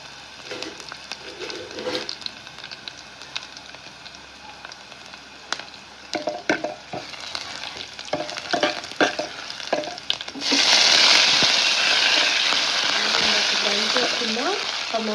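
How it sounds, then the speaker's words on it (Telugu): Crushed garlic cloves and curry leaves fry in hot oil, a steady sizzle with scattered clicks of stirring that swells into a louder, brighter crackle partway through as the leaves hit the pan. "ఇవి లైట్గా ఆయిల్లో మగ్గిన తర్వాత ఇందులో కరివేపాకు యాడ్ చేసుకోవాలి."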